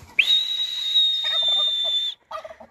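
A person imitates a hawk or eagle call with one long, loud, high-pitched whistle held for about two seconds, aimed at newly hatched turkey poults, followed by short soft rustling sounds.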